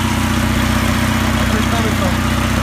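A car engine idles steadily at close range after its exhaust flex pipe was repaired with epoxy and a muffler patch. A low, even rumble holds throughout with a faint pulsing in the exhaust note.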